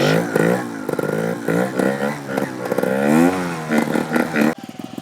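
A trials motorcycle engine revs hard as the rider lifts the front wheel into a wheelie, its pitch climbing and falling in repeated close, loud surges before cutting off near the end.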